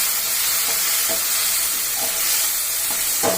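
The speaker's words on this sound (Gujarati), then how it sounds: "આપણે એને કડાઈથી સતત આવી રીતે હલાવતા રહીશું" Tomato pieces frying and being stirred in a kadai, a steady close sizzle with soft scraping strokes of the spoon recurring every second or so, no talking.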